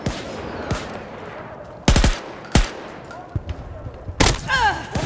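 Sharp gunshots and bursts of automatic fire crack in Battlefield 2042 hardcore mode, several loud reports spread over a few seconds with quieter rattles in between, alongside faint voices.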